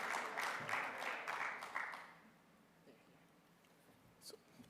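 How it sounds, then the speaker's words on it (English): Audience applause at a regional exporters awards ceremony, a short burst of clapping that dies away after about two seconds, followed by quiet room noise. "A round of applause."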